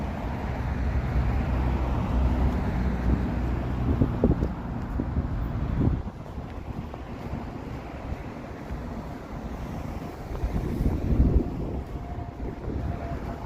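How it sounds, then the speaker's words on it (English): Wind gusting between tall buildings on both sides of a Toronto city street in the evening, a loud, steady roaring rush buffeting the microphone, easing somewhat partway through, with no voices. "the wind is a bit worse because I'm walking through an area with tall buildings on both sides of the street, so I'm getting that wind tunnel effect here"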